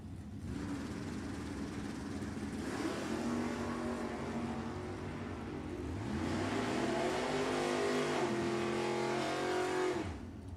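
A 1967 Dodge R/T and a 1972 Duster race down a drag strip, engines roaring and revving, rising and falling in pitch as they pass at a distance, with no talk.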